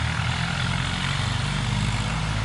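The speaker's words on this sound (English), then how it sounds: "Tractor here." A tractor drives past outdoors on a rural road, giving a steady, loud droning engine rumble that holds level throughout, with no talk.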